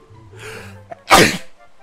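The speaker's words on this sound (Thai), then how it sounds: "จาม ขออภัยนะครับ ช่วงนี้เป็นหวัด" A single loud sneeze with a short inhaled build-up, then a sharp burst, close to the microphone. The person has a cold.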